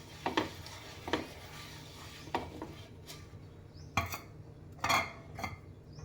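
Oil being smeared over a hot iron dosa pan, a series of soft scraping and rubbing strokes with light metallic clinks, spaced irregularly and fairly quiet, with a faint low hum underneath.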